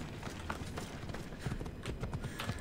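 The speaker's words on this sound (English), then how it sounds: "I also got this cool horse from around here." Horse hooves clip-clop in Assassin's Creed Odyssey, a steady galloping rhythm of close, moderately loud hoofbeats running through the whole stretch over a low background rumble.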